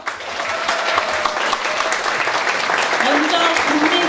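A crowd at a Justice Party city chapter founding convention in Daejeon claps vigorously to open the event, a thick sustained wash of applause with a voice heard over it toward the end.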